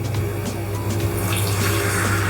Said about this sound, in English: Let's pour a little bit of water in.